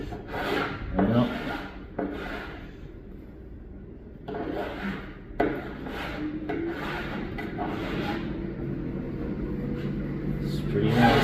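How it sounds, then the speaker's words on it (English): A round chainsaw file rasps along the edge of a countertop in repeated back-and-forth strokes, each a short gritty scrape, with pauses between strokes and a person talking at times. "bring my round file. I choose chainsaw file."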